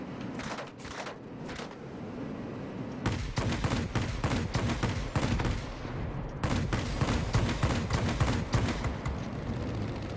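Aircraft guns in World of Warplanes, fired from the J7W2 fighter, rattle in dense rapid bursts, a shorter opening burst followed by two long sustained volleys, loud and close over steady engine drone.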